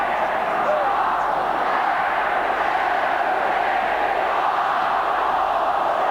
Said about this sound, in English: The crowd counting down the last 5 seconds.